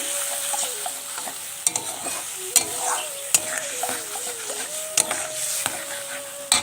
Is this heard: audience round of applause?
no